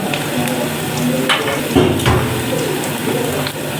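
Chopped garlic fries in a pan for a jute leaf dish, giving a steady crackling sizzle with a few sharp clinks of a utensil against the pan near the middle.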